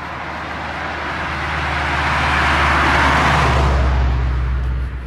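A Toyota Vitz passing at night in sub-zero cold, its engine and tyre noise swelling from a distance to a loud, close rumble before beginning to fade, with no one talking.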